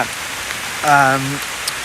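Heavy rain falls steadily as a broadband wash during a one-day motorcycle ride to Phu Phan in Sakon Nakhon, Thailand, with a brief tonal hum rising midway through.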